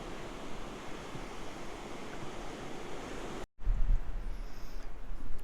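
Waves wash onto Playa Flamenca beach in Torrevieja, Spain as a steady broad roar of surf with wind buffeting the microphone, briefly cutting out before resuming with low gusts.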